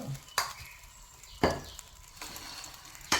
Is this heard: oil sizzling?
yes